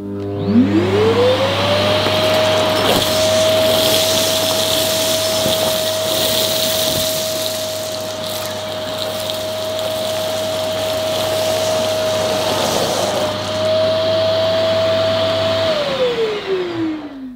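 Thomas Aqua Pet & Family vacuum cleaner doing dry suction, with a loud, steady motor whine that rises at switch-on, holds for about fifteen seconds and then winds down as it is switched off.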